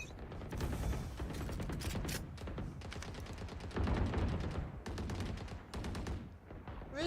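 Rapid bursts of video game gunfire during target practice, repeated shots in quick succession with short pauses between volleys, loud and close, no talking.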